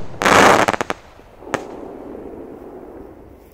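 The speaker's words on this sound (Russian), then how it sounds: "отличный взрыв." A loud firework rocket blast crackles at night, followed by a few sharp pops and a later distant bang, with a fading rumble trailing off.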